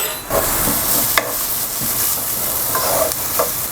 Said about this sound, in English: The onions and carrots are getting cooked pretty nicely. I'm still using the low flame.